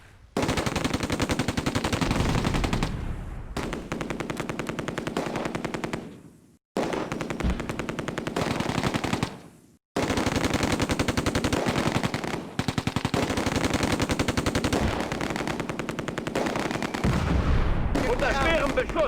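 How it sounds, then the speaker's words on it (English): Sustained heavy machine-gun bursts and rifle fire rattle loudly in the Close Combat war game, continuous for several seconds with two brief pauses before the shooting resumes. "The shooting has already started."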